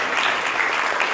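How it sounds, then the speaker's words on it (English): Clapping from the audience at a standup comedy fundraiser comes as a brief, loud, continuous burst of applause with no voices over it. "Big round of applause for Rama."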